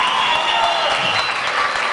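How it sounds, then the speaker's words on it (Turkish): An audience applauds at a village celebration in Hamzalı, Mesudiye, Ordu, a dense steady wash of clapping that holds loud and even for the whole stretch, with crowd voices faint underneath. "Alkışın bu taraftan çok geldiğini düşünüyorum."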